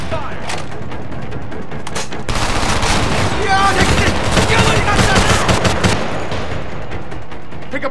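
Gunfire in the Homefront shooter game on Xbox 360: rapid automatic bursts and a sustained fusillade that swells loud and close through the middle, with scattered single shots before and after.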